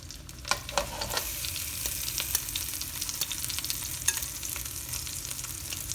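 Tandoori chicken shashlik pieces with mushrooms frying and getting mixed in a pan: a steady sizzle broken by several sharp scraping and tapping strokes from the stirring, close and clear, with no voices.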